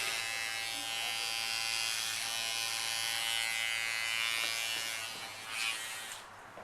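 Electric hair clippers shaving the sides of a head at a salon, a steady close buzz that holds for several seconds and fades slightly near the end, with no talking.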